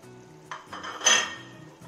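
Over a low bubbling simmer, Maggi noodles drop into a pot of boiling water with a brief burst of splashing, rustling and a metallic clink.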